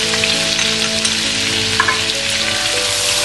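Garlic paste and chopped green chillies fry in hot oil, giving a steady, close, crackling sizzle throughout with a few faint stirring clicks.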